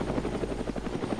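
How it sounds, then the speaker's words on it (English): A helicopter approaching in a zombie survival video game, steady rapid rotor thumping throughout, moderately loud and continuous. "heli's coming"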